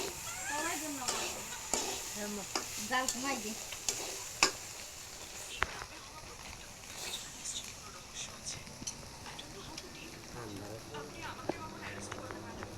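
Bitter gourd (karela) fries in a pan with soft sizzling and repeated stirring and scraping clatter, while a person talks over it.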